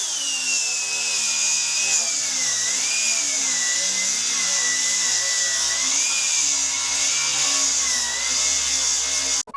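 An angle grinder fitted with a cheap flap disc carves wood from a tree trunk, a loud continuous high whine that rises and dips slightly as the load changes, running alone until it cuts off abruptly at the end.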